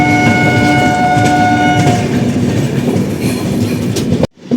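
Kerala Express rolls along the rails after leaving Agra Cantonment, a loud, steady rumble with rhythmic wheel clatter and a brief horn-like tone early on, heard from inside the train before cutting off abruptly.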